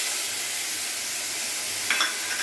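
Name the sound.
frying ginger, garlic, chili and onion paste in oil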